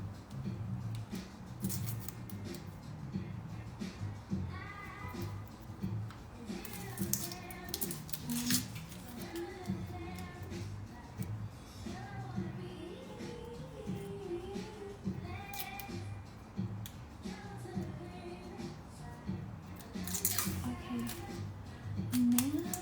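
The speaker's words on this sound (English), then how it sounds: "just gonna cut the onion." A knife cuts through an onion for a vegan Spanish rice dish, a steady run of soft, crisp chopping taps under continuous background music.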